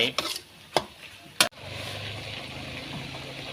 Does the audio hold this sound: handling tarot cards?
no